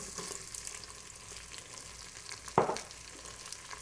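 Onion and ham fry with crispy bacon in an Instant Pot, a constant soft sizzle broken by one sharp clattering stir or scrape partway through, with no voices.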